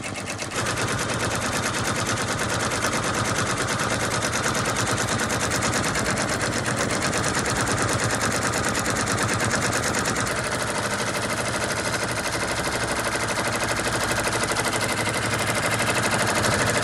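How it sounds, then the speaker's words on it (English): An embroidery machine stitches a Razorback design onto a sweatshirt, producing a dense, rapid, unbroken mechanical rattle that stays loud and close for the whole stretch, with no voices. "now it's stitching down pretty much final stitches over that area"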